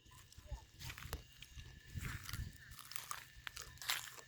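Crisp crunching bites and chewing of fresh, raw yardlong beans picked from a home vegetable garden, close and fairly quiet, with a murmured voice and light rustling around it.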